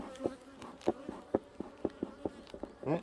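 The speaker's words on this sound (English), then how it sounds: "Like I hear bees." Bees buzzing around opened beehives, faint and close, with short passing buzzes recurring in an irregular rhythm against a quiet background.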